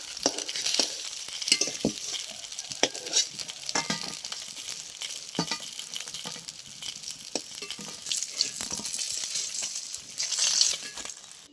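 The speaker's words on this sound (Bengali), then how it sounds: "কাতলা মাছটা খুব ভালো করে লাল লাল করে ভেজে নিয়েছি" Catla fish fries in a pan, likely in mustard oil, until browned, giving a continuous crackling sizzle with scattered clinks and scrapes of stirring, close by and moderately quiet.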